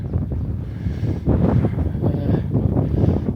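Strong wind buffets the microphone on a coastal clifftop walk along the Cleveland Way near Osgodby, a loud, low, continuous rumble that swells in gusts.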